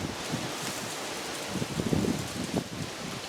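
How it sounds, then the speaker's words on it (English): Steady broadband wind buffeting a microphone outdoors in a garden, with faint rustling and a few low gusty thumps, no talking. "it's windy"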